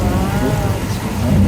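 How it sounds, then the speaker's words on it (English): Overhead sprinklers spray simulated rain at Universal Studios' flash flood attraction, a loud continuous hiss of falling water with a low rumble underneath. "We have overhead sprinkler systems spraying water."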